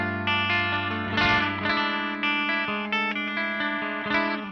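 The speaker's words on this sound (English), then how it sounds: "go to a clean channel right now and I can show you what the pickups sound like" A cheap Jackson Surfcaster electric guitar that needs intonation, played on its bridge pickup through a clean channel, sounds as ringing chords and single notes with a light chorus-like shimmer, loud and close, with no talk.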